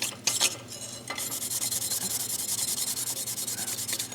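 A red Scotch-Brite pad scrubs metal in a blacksmith forge setting, a steady rhythmic rasping with quick repeated strokes, close and fairly loud, after a few sharper scrapes at the start.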